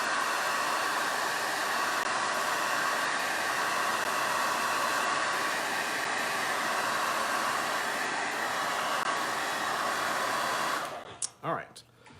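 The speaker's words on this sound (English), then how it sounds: "Now I'm going to use my hair dryer just for speed's sake." A hair dryer blows steadily for about eleven seconds while drying paint on a tiki mug, a loud even whoosh with a high whine that cuts off abruptly near the end.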